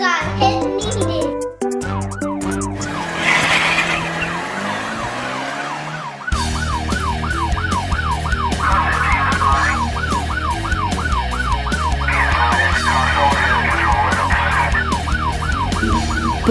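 A police car siren wails in a steady, repeating rise-and-fall pattern through most of the clip, loud over bright background music in a children's cartoon about helper vehicles.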